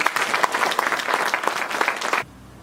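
A crowd of summer school participants claps loudly and briskly for a couple of seconds, individual hand claps standing out in the busy burst before it cuts off abruptly into near silence.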